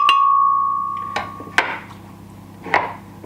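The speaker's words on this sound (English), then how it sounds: "It's called a dough scraper. And I'm not scraping dough." A dough scraper knocks and scrapes across a cutting board of chopped vegetables, giving three sharp, close, separate strikes, preceded by a brief steady tone.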